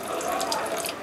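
Hot side of an RV faucet runs steadily with a water pump on, a continuous close hiss of flowing water filling the sink for the full second, with no talk over it.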